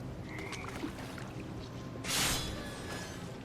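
Toads croaking in a dark, damp game setting from What Remains of Edith Finch, faint scattered croaks over a low ambient rumble, with a brief watery rush partway through.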